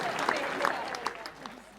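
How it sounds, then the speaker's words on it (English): A crowd at a football club's player awards dinner applauds the catering staff, with a burst of close clapping that gradually thins out, mixed with a few voices. "A huge round of applause to the catering staff."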